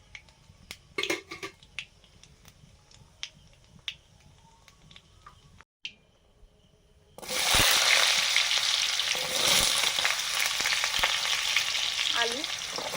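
Black cumin seeds hit hot mustard oil for aloo posto, starting with a few faint clicks and taps before a loud, dense, continuous frying hiss takes over for the second half.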